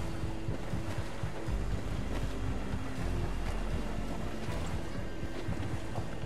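A sailing ship at sea in Assassin's Creed IV: Black Flag, with a continuous wash of waves, wind and creaking hull noise at steady loudness and no talk.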